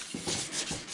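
Wet or dry 1000-grit sandpaper rubbing back and forth over a pitted plastic headlight lens on a 1999 3000GT, with three close, steady rasping strokes in a quick rhythm and no talking.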